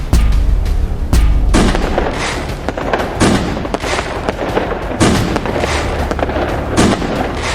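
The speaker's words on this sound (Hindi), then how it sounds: "12 बजते ही फायर क्रैकर्स फूटने लगते हैं" Dense New Year midnight firecrackers burst without pause, loud and overlapping, with sharp cracks and deeper booms piling into a continuous roar.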